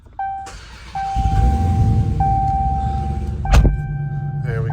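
A 2022 Dodge Challenger Hellcat SRT RedEye Widebody with a 797 hp engine starts up: a dashboard chime sounds, then the engine cranks, catches into a deep rumbling idle and gives one short rev blip.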